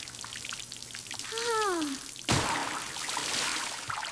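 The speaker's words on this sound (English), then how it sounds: "You're splashing everything." Water splashing and spattering fast in a kitchen during hurried washing, a steady hissing patter like running water on surfaces, close by, with a brief voiced sound over it and a sudden louder splash partway through.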